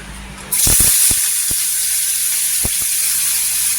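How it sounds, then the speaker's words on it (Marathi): Bombay duck (bombil) fish dropped into hot oil in a kadhai, bursting into a loud, steady sizzling hiss after a quiet start, with a few sharp pops and clatters from handling the pan. "इथे पहा तेलावर छान असं आहे ना बोंबील छान असं फ्राय करून घ्यायचं"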